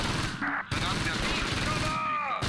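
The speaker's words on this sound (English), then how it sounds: "Anishi has the machine gun there" Machine gun fire in the Close Combat WWII strategy game, along the Fontenay-Caen road. Short, sharp bursts of gunfire crackle over dense battlefield ambience, with a brief lull between volleys.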